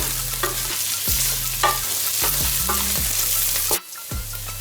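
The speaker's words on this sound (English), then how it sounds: "We're just going to mix the garlic and the onions together." Chopped garlic and onions sizzle in a hot pan for keema aloo mattar, with a spoon scraping and stirring in repeated strokes until the sizzling briefly drops near the end.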